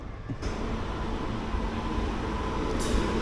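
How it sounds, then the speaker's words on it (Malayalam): The Nagercoil–Mumbai CSMT Express, hauled by a WAP-7 electric locomotive, arrives at a station platform with a steady broadband rumble and hiss of rolling stock, moderately distant and even throughout. "നാഗർകോവിൽ സൈഡിൽ നിന്ന് നാഗർകോവിൽ മുംബൈ CSMT എക്സ്പ്രസ് വരുന്നുണ്ട്"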